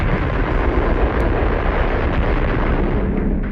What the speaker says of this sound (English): At 11:32 a.m. Moscow time, the bomb exploded.